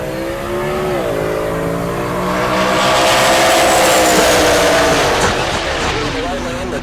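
A Mustang and a Subaru WRX launch in a 10.0-class drag race pass at Heartland Park Topeka, one loud, sustained engine roar rising in pitch and sweeping past, with a commentator speaking over it.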